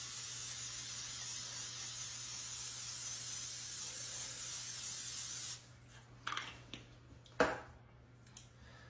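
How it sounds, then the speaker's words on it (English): Long continuous hiss of a butter-flavored aerosol cooking spray on a muffin pan lasting several seconds, then stopping, followed by a few light metallic clinks of the pan. "take some butter flavored spray and spray our muffin pan"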